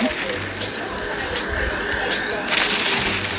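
Cannons firing in the space game EVE Echoes from a Hurricane Prototype ship, repeated booming shots over a dense, steady rumble of engine drone and battle noise, with someone talking over it.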